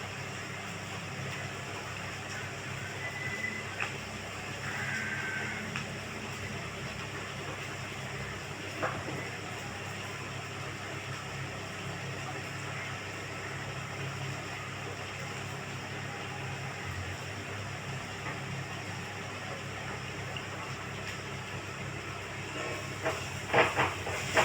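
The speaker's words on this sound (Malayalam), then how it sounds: "അത് പിഴിഞ്ഞ് നമ്മളതിലേക്ക് ഒഴിക്കുകയാണ്" Tamarind water squeezed and poured into a pan of frying onions, a steady loud sizzling hiss that runs throughout, with a few clinks of utensils near the end.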